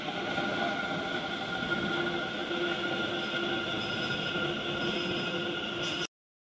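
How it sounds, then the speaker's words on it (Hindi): Steady rumble of a Delhi Metro train arriving at the Greater Kailash station platform, loud and continuous, with a faint high squeal, cutting off abruptly at the end. "तो इस प्लेटफॉर्म पे भी जो है मेट्रो आ चुकी है"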